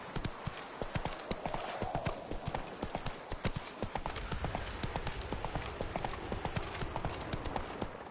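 A horse gallops in The Witcher 3 video game, its hoofbeats a fast, even clip-clop rhythm that runs close and steady throughout over faint game ambience.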